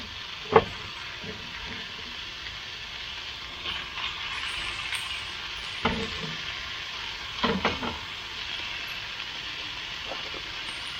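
Breakfast food fries in a pan with a steady crackling sizzle, broken by several sharp clacks and scrapes from handling the pan, while a voice speaks faintly at times.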